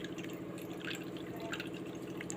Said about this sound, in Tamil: பார்த்து கவனமாக ஃபுல்லாக வடிகட்டி எடுத்துக்கோ.